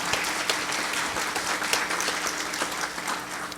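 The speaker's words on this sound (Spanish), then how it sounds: "Regálele un aplauso a este santo evangelio," Steady applause from a church congregation, dense continuous clapping filling the space at moderate distance, sustained without pause and no voices heard over it.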